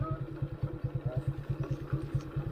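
Motorcycle engine on a mountain road trip from Tublay to Baguio, running with a steady, rapid low throb and a rough, pulsing clatter, close and fairly quiet with no talk over it.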